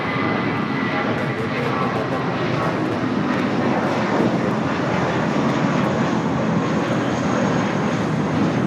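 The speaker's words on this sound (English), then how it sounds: "This is Spirit Airlines 1818 taking off to Chicago on the A320" Spirit Airlines Airbus A320 taking off at Los Angeles LAX, bound for Chicago: a loud, steady broadband engine roar holds unbroken throughout, close and dense with no pauses.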